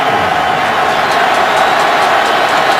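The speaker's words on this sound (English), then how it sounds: "we hear from the crowd here at Arrowhead" A football crowd at Arrowhead Stadium roars as one loud, continuous wash of noise that fills the whole moment, steady and distant-sounding, with no distinct voices standing out.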